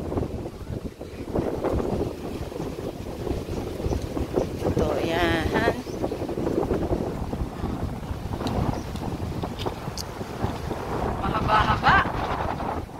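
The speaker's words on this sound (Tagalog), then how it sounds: "Malakas ang hangin." Strong wind buffets the microphone on Binucot beach on Sibuyan in Romblon, a steady rough roar with surf underneath while a person talks over it.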